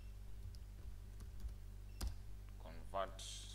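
Soft, sparse clicks from a computer keyboard as a disk-partitioning command is entered, quiet and close, with a voice talking near the end.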